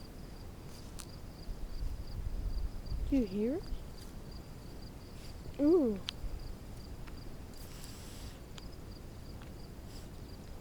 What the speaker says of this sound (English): Did you hear that? It was a cricket.